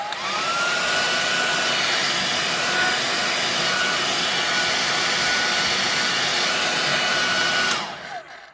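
A hair dryer heats the back cover of a Samsung S21 5G phone, blowing with a loud, steady whirring hiss for several seconds, then cutting off abruptly near the end.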